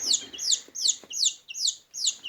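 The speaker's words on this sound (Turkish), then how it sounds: "Yani şu anda böyle civcivlerim var elimde." Baby chicks peeping close by, about six shrill, evenly spaced chirps in quick succession, with a few soft handling taps underneath and no talk.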